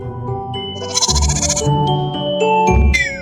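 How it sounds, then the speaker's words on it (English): A goat bleats loudly in a long wavering cry over a bouncy children's alphabet-rhyme music backing, followed by a second shorter bleat near the end. "is for goat."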